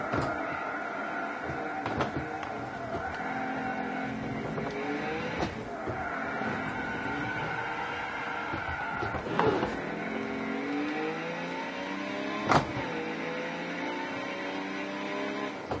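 A race car in a video game replay drives through a high-speed sweeper, its engine droning steadily with rising and falling pitch through gear changes and a few sharp clicks, loud and continuous with no talk.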